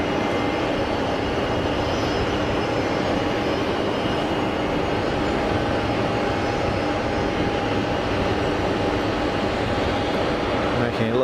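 An easyJet airliner landing at Geneva Airport, a loud continuous engine roar with a steady hum, heard close and unbroken.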